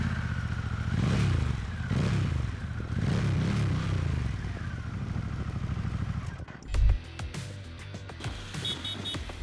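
A Harley-Davidson Pan America 1250 motorcycle engine runs close by with a deep, steady idle rumble, then gives a sharp throttle blip and settles back to idle.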